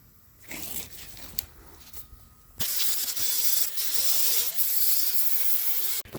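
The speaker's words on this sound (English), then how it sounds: "30 grit sandpaper on it, and just grind all of this off until it's nice and flat" Coarse sandpaper grinding rust off the corroded exhaust flange of a Nissan Versa muffler, starting with a few faint scrapes, then a loud, steady harsh rasping for about three and a half seconds before stopping abruptly.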